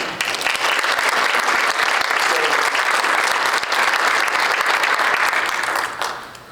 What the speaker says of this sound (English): please give a round of applause to all the gold sponsors this evening